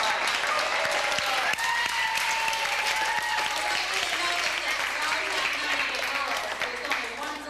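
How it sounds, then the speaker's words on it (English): An audience at a 1986 St Marks youth banquet claps steadily, a dense roomful of applause sustained from start to finish, with voices faintly audible underneath. "Let's give them a few applause."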